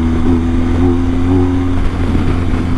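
BMW R1250GS motorcycle fitted with a BT-Moto stage 1 exhaust accelerating through the gears, giving a loud, steady, close engine drone with strong low harmonics and no speech.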